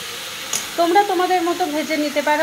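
Capsicum and large onion pieces dropped into a frying pan for chilli soya paneer, a brief clatter and then a steady sizzle that stays close and moderately loud, with a voice talking over it.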